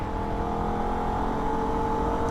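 Holden VF Ute engine revving hard on the Nürburgring, a steady loud drone with sustained tonal whine and no pauses, heard close up throughout.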